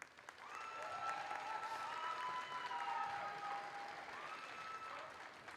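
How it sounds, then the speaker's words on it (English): An audience in a gym at a girls' basketball game applauds families being recognised, giving a steady, faint, distant wash of clapping that holds evenly for several seconds. "Please join me in enthusiastically applauding each family as their name is called."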